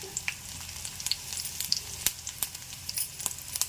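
Dried red chilies crackling in hot oil with mustard seeds and cumin, a soft continuous sizzle dotted with sharp pops and spits, close and steady for a few seconds with no talking.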